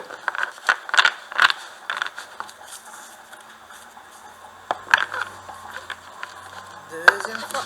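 Tarot cards being shuffled by hand, giving light papery riffles and taps in short bursts near the start and again around the middle and end, with soft handling noise between.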